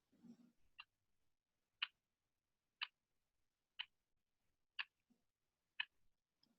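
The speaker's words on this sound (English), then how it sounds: "I have a little clock in my room." A little clock ticks in a quiet room, with six faint, evenly spaced ticks about a second apart and near silence between them.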